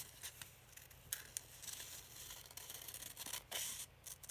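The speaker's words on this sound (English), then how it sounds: "I'm cutting from the fold. And I'll just speed up the film while I cut around the outside." Scissors cut around the outline of a folded sheet of paper, a quick, uneven run of close, crisp snips and paper rustles with no talking.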